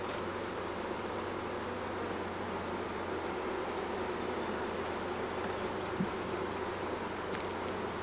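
Honeybees from a swarm trap buzz in a hive as a dense, steady drone that holds at an even loudness throughout, close by and with no voices.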